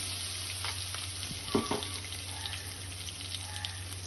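Chili and garlic paste frying in a pan for pithla, a low steady sizzle with a few faint clinks and stirring sounds, quiet and close with no talk.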